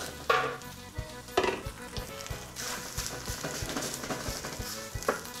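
Sausage frying in a paella pan over a campfire-style grill, a steady crackling sizzle with sharp spitting bursts and utensil clatter as the links hit the hot oil and are moved around.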